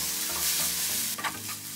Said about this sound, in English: Put the ground meat and stir fry it.